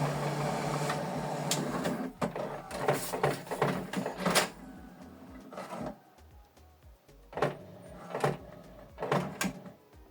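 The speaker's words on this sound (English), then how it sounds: "So it's now printing the document." An HP Deskjet inkjet printer whirs and clunks through a series of mechanical movements printing a document, with irregular clicks and bursts of motor noise separated by short pauses.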